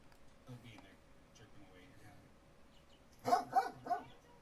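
A dog barks several times in quick succession near the end, fairly close and loud against a quiet indoor background, after faint talk earlier.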